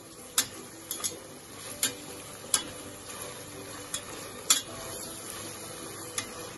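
Sliced onions frying gently in a pan for ghee rice, a low steady sizzle with sharp periodic clicks of a spoon or spatula against the pan, with no voices.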